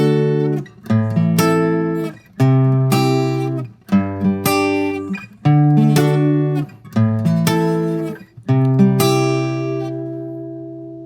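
Guitar plays a repeating chord progression in clear, close strummed bursts with short pauses between them, ending on a sustained ringing chord.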